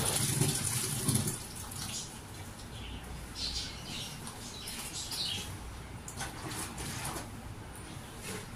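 Water runs and splashes steadily as clothes are put to soak during early-morning household chores, with birds chirping and squawking faintly in the background.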